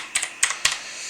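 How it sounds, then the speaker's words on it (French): Three quick bursts of keystrokes on a computer keyboard as a short code is entered to log into a MetaMask crypto wallet, crisp and close-up with no talking. "Du coup je tape mon petit code."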